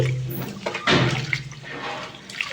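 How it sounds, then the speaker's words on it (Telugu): Water sloshes and splashes in a bowl as green gram lentils are swirled and rinsed by hand, close up, with soft dripping between bursts. "ఇట్లా వాటర్ వేసి వాష్ చేసుకోవాలా"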